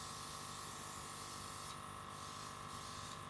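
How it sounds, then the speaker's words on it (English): A steady, continuous hiss of a light colour spray being misted onto decorated cupcakes, close and even throughout with slight dips near the end. "So I've just put a light spray on there."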